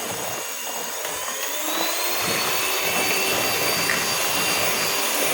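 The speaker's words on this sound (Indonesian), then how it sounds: "Nah mulai ya di blender dari sini, nggak akan di skip" A kitchen blender runs continuously, beating pumpkin sponge cake batter with a steady, loud motor whir and no pauses or talk.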